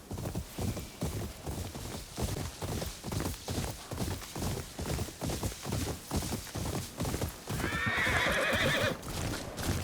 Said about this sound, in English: Is that Jubei's horse?